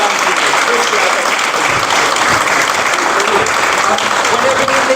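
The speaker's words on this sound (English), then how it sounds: "So if you would mind all giving a big round of applause for this webinar" A loud, dense wall of audience clapping fills the room after a combatives training session, sustained and even throughout without a break.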